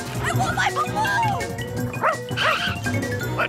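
A cartoon dog barks and yips in short, excited bursts beside a child's balloon, with loud animated voices and scuffling talk layered around the barks.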